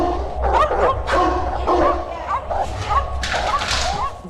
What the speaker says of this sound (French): Et les chiens se sont remis à grogner et à aboyer.